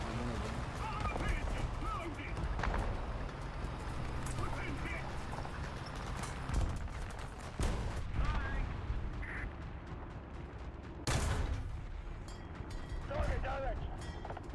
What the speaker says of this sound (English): Then lob some shells that way.